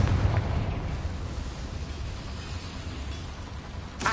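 Confringo blasting spell exploding in Hogwarts Legacy, a dense, roaring burst of rumbling blast noise that fills the scene and fades into a crackling wash before a sharp pop at the end.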